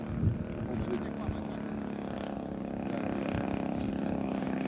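A DL56 petrol engine drives a 2.2 metre Jamara Yak 54 RC aerobatic model plane, giving a steady, buzzing drone with a low throbbing pitch. It holds at a moderate, even level throughout.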